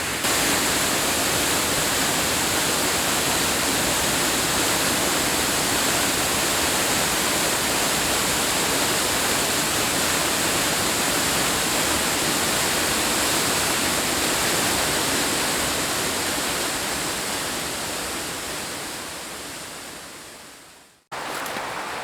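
Water roars at Hilton Falls in the conservation area as a dense, loud, continuous rush heard up close, steady for about twenty seconds before cutting out abruptly, with no voices.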